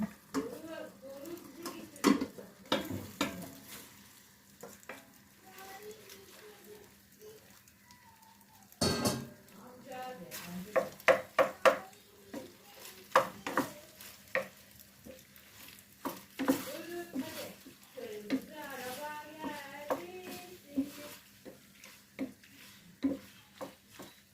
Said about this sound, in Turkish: Makarnamla beraber karıştıracağım.